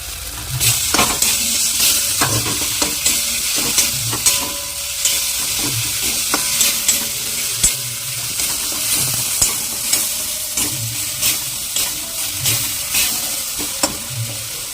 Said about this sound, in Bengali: এবার দেওয়া হচ্ছে টমেটো, টমেটোগুলো দিলাম